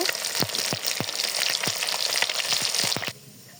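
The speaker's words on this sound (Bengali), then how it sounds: "আমার মাছ ভাজা হয়ে এসেছে আমি মাছ ভাজা এখন উঠিয়ে নিব" Fish frying in hot oil gives a steady, close crackling sizzle broken by several sharp pops and spatters, then drops abruptly to a quieter hiss near the end.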